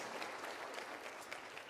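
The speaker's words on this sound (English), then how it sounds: "Round of applause as you take your seats, please." Audience applause at a graduation ceremony in a large convention hall, steady dense clapping throughout, fairly soft and distant with no voices over it.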